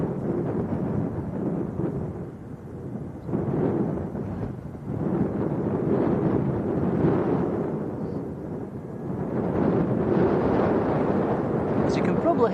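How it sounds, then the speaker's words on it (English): A stiff westerly breeze buffets a microphone outdoors at an airport, producing heavy, rumbling low gusts that swell and ease in waves for the whole stretch. "Here over the mic, it is breezy this afternoon. Quite a stiff breeze coming from the west."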